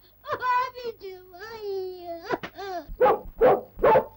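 High, drawn-out whimpering and whining cries of a dog in an old Turkish film rise and fall, followed by a few short sharp yelps; the voice may be a person imitating a dog.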